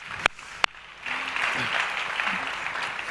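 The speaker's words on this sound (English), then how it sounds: "This is your round of applause." A festival main-stage audience applauds a panel on resource efficiency: two sharp, isolated claps, then a sustained wash of clapping from the crowd.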